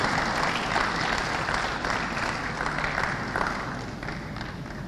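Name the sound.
audience applause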